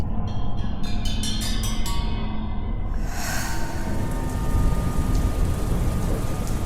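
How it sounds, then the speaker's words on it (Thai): Heavy night rain pours down steadily in an animated short film, a dense continuous hiss with a low rumble underneath, loud and close throughout. "ฝนได้ตกลงมาอย่างหุนแหง"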